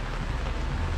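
Steady rain falls outdoors in a town, producing a continuous, even hiss with a low rumble underneath, with no talking.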